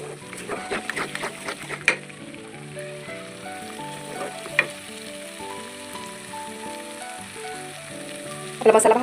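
Spice masala with red chilli powder and a splash of water frying in a pan gives a steady, soft sizzle with occasional sharp clinks of stirring.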